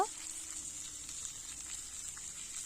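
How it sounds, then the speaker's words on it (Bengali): Potato pieces fry in hot oil in a wok, a faint, even sizzle hissing steadily throughout with a brief clatter at the very start. "আলুটা আগে কিন্তু হালকা ভেজে নিচ্ছি"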